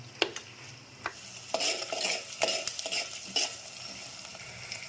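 Onions and spices for a tempering being fried and stirred in a pan for mutton paya, quiet sizzling punctuated by sharp scraping strokes of a spoon against the pan.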